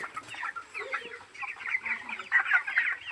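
Chickens on a poultry farm cluck and chatter in a busy, overlapping stream of short calls, moderately close with no talk.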